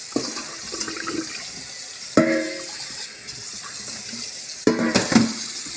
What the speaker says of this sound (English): just give it a quick rinse right out under water.